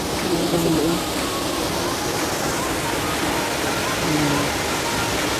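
Alalum Falls in Kisolon, Sumilao, Bukidnon, a steady broad rush of falling water heard outdoors, with brief voices talking over it.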